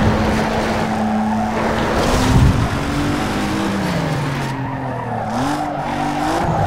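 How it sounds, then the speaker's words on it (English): A car in Need For Speed Underground 2 skids through a handbrake turn, tires squealing over a continuous revving engine whose pitch slides down and back up as it powers out of the slide. "Now I had to use the handbrake."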